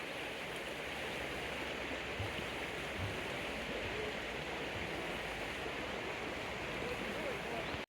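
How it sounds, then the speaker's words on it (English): River water flowing at Symonds Yat, a broad, continuous rushing wash that holds steady and even throughout, heard alone without talking. "There is something so peaceful about the sound of actually the river and the flow of water."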